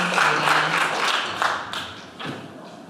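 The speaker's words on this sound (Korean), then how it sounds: "큰 박수로 환영해 주시기 바랍니다" An audience at a youth science communication contest in Chungbuk greets a high-school contestant with applause, a burst of clapping that thins and fades out over a few seconds, with a few louder thumps near the end.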